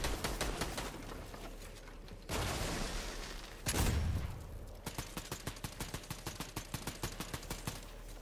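Shotgun blasts in the video game Fortnite, a rapid string of sharp, loud reports with a couple of heavier booms mixed in, repeating in quick bursts.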